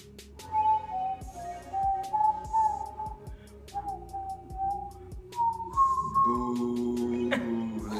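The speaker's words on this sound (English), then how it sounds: "Can you whistle?" Someone whistles a wavering tune, pitch sliding between notes, over light background noise and occasional soft knocks.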